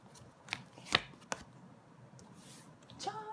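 Tarot cards shuffled and set down on a table in a few short, soft snaps and flicks, faint and close, with quiet pauses between.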